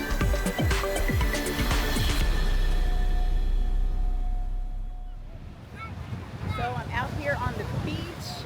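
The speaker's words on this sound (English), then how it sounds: "A little windy, so hopefully you guys can hear me." Wind buffets the microphone on a cruise ship deck off Aruba, a loud roaring gust that fades after a few seconds into softer open-air wind and water sounds.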